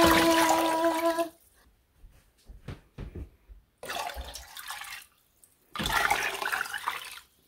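Water is poured into a cooking pot in short bursts, three separate splashing pours separated by pauses, fairly close and moderately loud with no talking over them.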